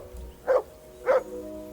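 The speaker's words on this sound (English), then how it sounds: "I assume you can hear that damn dog of yours barking." A dog in the video game Kingdom Come Deliverance II gives two loud, evenly spaced barks about half a second apart, close up and alone over a steady low game ambience.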